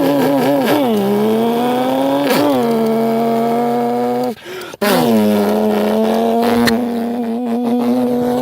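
A car launches hard in first gear through a ratchet shifter, engine revving high and climbing with a strong droning tone, a brief dip as the gear catches, then pulling loudly again, close and dominant throughout.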